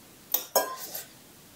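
Eggs being beaten in a bowl for Indomie: two quick, sharp clinks of utensil against the bowl followed by a couple of fainter taps, then quiet.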